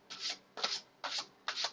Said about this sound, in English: let me use a quick shuffle on you here to warm them up